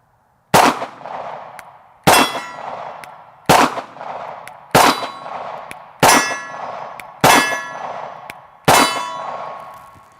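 A CZ 75 P-07 pistol fires seven evenly spaced shots, each striking a steel target with a sharp clang and a ringing ding that fades before the next shot.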